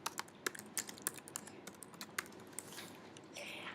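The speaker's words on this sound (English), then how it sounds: "So I'm going to type in American Revolution." Someone types on a computer keyboard, entering a search into a school library database. The keys click in a close, quiet, irregular run of taps with a few louder strokes.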